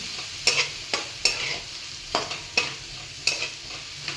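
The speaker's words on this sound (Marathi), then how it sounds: "हे 2 मिनटं परतून घेऊ आता थोडंसं अजून" Red chili powder being sautéed in a pan for masala Maggi noodles, with a steady soft sizzle under repeated sharp scraping strokes of a spoon against the pan, close and alone.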